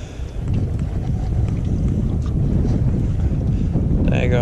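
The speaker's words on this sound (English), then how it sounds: "Daggone wind. Sorry about the wind noise" Gusty wind buffets the microphone on a boat while fishing for crappie, a loud, continuous low rumble that fills the whole stretch.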